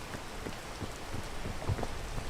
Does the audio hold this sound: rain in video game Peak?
yes